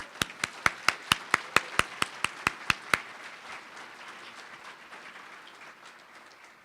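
Sharp, evenly spaced claps at a fundraising breakfast, about a dozen loud rhythmic beats, then a softer scattered round of audience applause fading out.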